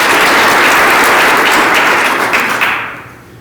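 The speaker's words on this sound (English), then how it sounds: "Please give them a round of applause." An awards gala audience breaks into loud, dense applause, many hands clapping together in a sustained roar that holds steady and then fades out over the last second.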